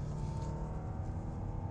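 A 2019 Genesis G70 with all-wheel drive is driven through corners, its engine giving a steady low drone and road rumble from inside the cabin, even and moderately quiet, without speech.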